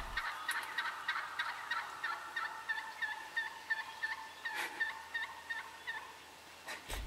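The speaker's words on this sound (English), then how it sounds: "Now we are surrounded by birds this morning, as you can tell." Wild turkey toms and jakes in a field at morning, a rapid series of gobbles repeating in clustered bursts, moderately near against a quiet background, no voices.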